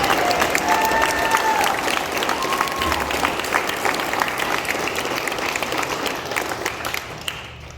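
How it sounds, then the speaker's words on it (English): Sustained applause from a sizable crowd at a high school scholarship award ceremony, steady and full throughout before thinning out at the end. "Let's give them a huge round of applause."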